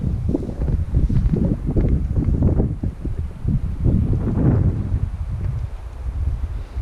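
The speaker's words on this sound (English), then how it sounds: "It is pretty windy" Steady, loud wind buffeting the microphone outdoors at a campsite, with gusty roaring and rumbling throughout and faint rustling underneath.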